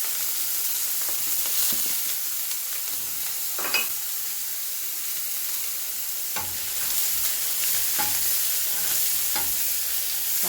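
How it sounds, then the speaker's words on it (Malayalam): Chopped onion and green chilli frying in hot oil for spring rolls: a constant, close sizzle with occasional spoon knocks and stirring scrapes, no voices over it. "അരിഞ്ഞു വെച്ച സവാള, പച്ചമുളക് ഒക്കെ അതിലേക്ക് ഇട്ട് കൊടുക്കാം"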